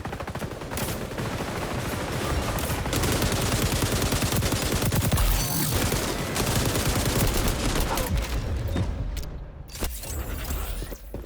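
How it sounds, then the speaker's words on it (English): Dense, sustained gunfire in the online shooter XDefiant, with bullets punching through walls. Rapid automatic bursts overlap almost continuously for about nine seconds, then thin out into a few scattered shots near the end. "Where they're shooting through fucking walls"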